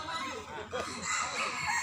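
A bantam rooster crows amid a busy, noisy outdoor crowd at a cockfighting ground, with other fowl sounds and chatter blending into the background.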